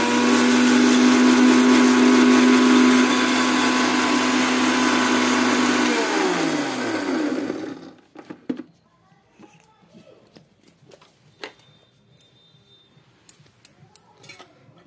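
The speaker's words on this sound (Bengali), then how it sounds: "এবারে আমরা মিক্সিতে এটা বেটে নেব।" Electric mixer grinder blending a paste, a loud steady whirring motor hum that winds down and stops after several seconds, followed by quiet with small clicks and handling noises.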